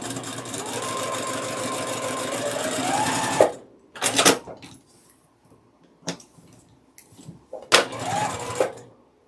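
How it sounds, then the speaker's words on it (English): A sewing machine stitches fabric for a quilt block in a fast, even run of needle strokes for a few seconds, then stops and restarts in several short bursts separated by quiet pauses, close and clear. "we're going to stitch along the second line that we've drawn on so that we can get our bonus HST"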